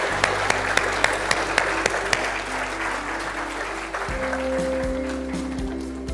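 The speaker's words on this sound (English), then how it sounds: "It's okay to clap." Audience applause at the AWS Summit New Delhi 2022 keynote, a steady wash of many hands clapping throughout with a few sharper individual claps up close, while a low steady hum runs underneath and shifts partway through.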